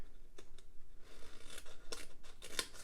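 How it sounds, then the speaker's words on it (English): Paper being cut along a score line with scissors, a few soft snips and rustles close up, fairly quiet, with no talking. "we're going to cut this score line right here"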